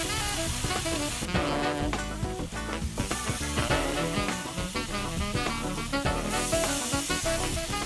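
Two torn strips of bacon frying in a pan, a continuous bright sizzle and crackle with spattering pops and hiss, close and fairly loud with no talking.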